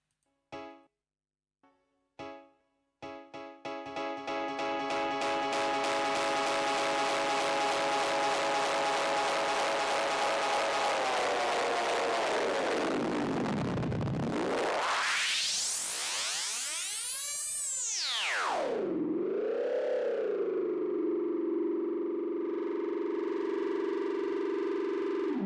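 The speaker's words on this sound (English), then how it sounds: "Just observe that the echo is going into the red and sound quite good." Ableton echo (delay) effect pushed into the red, a few sparse hits at the start giving way to a loud, continuous distorted feedback tone that sweeps down, rises in pitch and warbles, alone with no voices.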